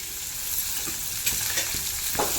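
Onions and curry leaves frying together in a pan for a vegetable palya, a steady close sizzle with a few soft clinks and stirring scrapes, no talking.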